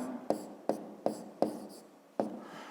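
A pen writes segment names for a fifth-grade maths exercise in a notebook: five crisp, separate strokes tapping and scratching on paper at an uneven pace, close and alone.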